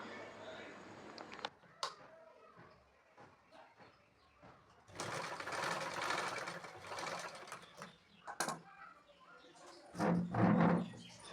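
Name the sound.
sewing machine stitching fabric for a long puff sleeve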